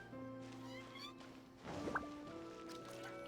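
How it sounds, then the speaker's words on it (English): A cat meows once, short and faint, in Genshin Impact, over a steady game music backdrop. "Hey, cat."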